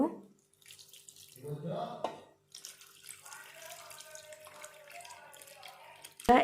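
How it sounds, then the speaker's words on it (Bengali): Milk pours into a pot for kheer made with date-palm jaggery, a soft liquid stream and splash of moderate loudness running for several seconds after a short bit of clatter. "এবার এর মধ্যে আমি দুধটাকে ঢেলে নেব"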